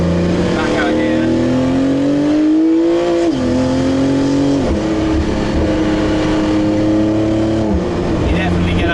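A car accelerates hard on a road in Dubai, its engine tone climbing steadily through several gear shifts, loud and close as if heard from inside the cabin, with a broad low rumble underneath.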